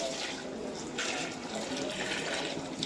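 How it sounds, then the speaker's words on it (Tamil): Mutton cooking water from a pressure cooker poured into a pot for biryani, a steady close pouring and splashing that runs for nearly three seconds with no talk. "குக்கரில் மட்டன் வேக வச்சோம்ல அந்த தண்ணியை சேர்த்துக்கணும்"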